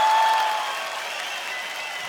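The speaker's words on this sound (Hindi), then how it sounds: "प्लीज आप सबकी जोरदार तालियों के बीच इनवाइट करना चाहता हूँ" Studio audience at a Hindi comedy talk show clapping to welcome a guest, a loud, full burst of applause that starts strong and settles into a sustained even roar, with no one speaking.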